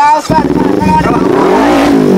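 A motorcycle engine revs up under a loud shouting argument, its rising, throbbing whine climbing in pitch beneath the raised voices.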